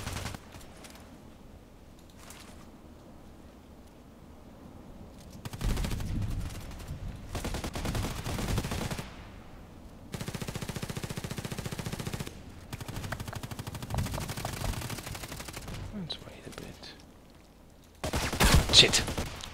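Video game gunfire in a sniper shooter, bursts of rapid automatic fire coming in several long stretches with quieter gaps between, moderately loud, a voice talking at times.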